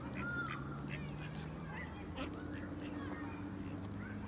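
Ducks on a pond in London, with a few faint, scattered quacks over a constant low background hum.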